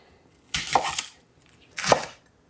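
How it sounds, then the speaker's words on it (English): A knife rough-chops half an onion on a board for a homemade peri peri sauce, two short bursts of crisp chopping strokes separated by a pause, close and clear with no talking. "and just rough chop it like so"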